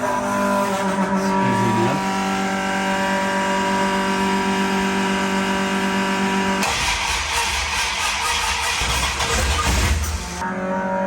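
A freshly rebuilt 360 V8 in a 1973 Dodge Dart cranks, catches and roars on first start, revving hard and rumbling steadily, very close, before the revs briefly drop near the end.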